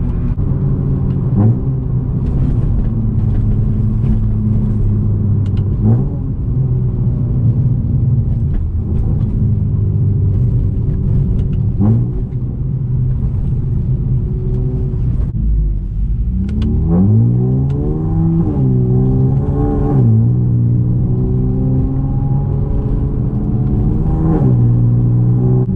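Cadillac CT2 with nearly 400hp, heard from inside while cruising, a loud steady low engine drone with gear changes and rising revs partway through, continuous and close.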